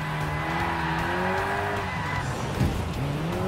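Car drifting in GT Sport, likely the KTM X-Bow, with a steady engine drone under sustained tire squeal that rises and falls in pitch, with a brief louder scrub near the end.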